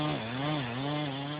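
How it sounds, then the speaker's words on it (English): A chainsaw runs steadily close by in an ancient virgin forest in Romania, its engine note wavering slightly as it bites into timber, loud and continuous with no talk. "The sound of chainsaws ripping through ancient virgin forests in Romania is nothing unusual."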